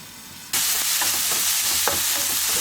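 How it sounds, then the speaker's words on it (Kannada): Tomatoes for tomato fried rice hit a hot pan and burst into loud, steady frying and sizzling after a quiet start, with faint stirring clicks underneath. "2 ನಿಮಿಷ ನೀವು ಲಿಡ್ಡಾಗಿ ಕ್ಲೋಸ್ ಮಾಡಿದ್ರೆ ಟೊಮೆಟೊ ಬೇಗ ಫ್ರೈ ಆಗುತ್ತೆ."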